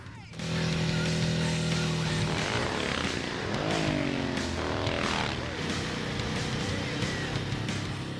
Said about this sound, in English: It has a sort of a racing engine in it compared to our production motorcycles.